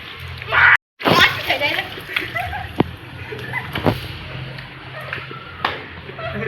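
Children splashing water on each other during rooftop rain play, a steady wash of splatter and sloshing with sharp slaps, under lively overlapping kids' voices and chatter.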